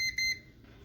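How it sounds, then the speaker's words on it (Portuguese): A multimeter set to continuity mode beeps while testing the motor fuse of a Mundial blender, two short high-pitched electronic tones in quick succession, fairly faint and followed by quiet. "O multímetro tá na escala de bip."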